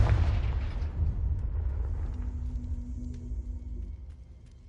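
A Confringo spell explosion in Hogwarts Legacy bursts with a loud opening boom, then settles into a long, heavy rumble that slowly fades beneath a faint tonal hum, with no voices.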